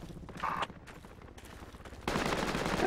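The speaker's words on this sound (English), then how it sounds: "To our southeast, I heard gunfire." Gunfire from the military shooter game Project Reality, heard as scattered rattling bursts that swell into a denser, louder stretch of firing near the end, with no talk over it.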